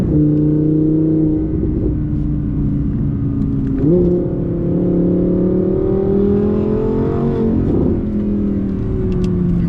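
An Audi R8 V10 Plus engine drones steadily on a narrow alpine road, pitch climbing under load and dropping sharply at two quick upshifts before building again, loud and close.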